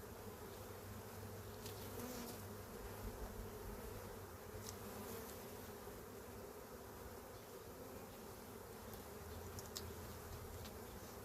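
Honey bees buzz steadily and loudly around an open hive during an inspection, a dense continuous drone close by with individual bees flitting past now and then.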